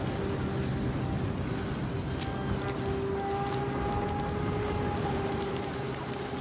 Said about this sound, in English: Look at the way the rain is falling.